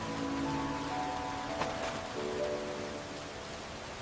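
Steady rain falls at a bus stop on a wet road, a soft continuous hiss with faint drops, heard alone under a quiet background tone.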